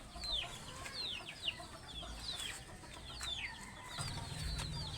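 Chickens cluck and chirp in bursts through the clip, with a busy, noisy farmyard background and a low rumble near the end.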